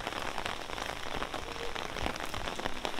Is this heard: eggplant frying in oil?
no